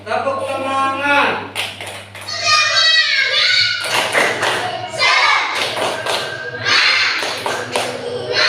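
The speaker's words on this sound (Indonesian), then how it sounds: "Coba tepuk semangat." Schoolchildren in a classroom doing the tepuk semangat clapping chant, several rounds of rhythmic group claps and thumps alternating with children chanting and a teacher's voice.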